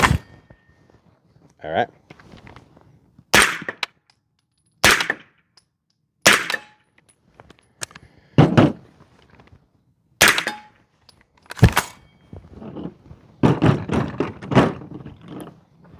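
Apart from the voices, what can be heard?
unsuppressed 9mm short ported barrel gunshots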